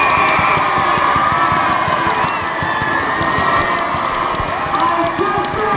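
A crowd at Jennerstown speedway roars and cheers loudly and without a break at a stock car event, the noise sustained and dense throughout.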